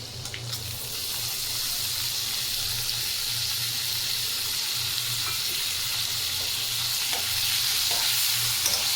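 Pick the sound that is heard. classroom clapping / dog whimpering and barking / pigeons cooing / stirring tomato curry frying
stirring tomato curry frying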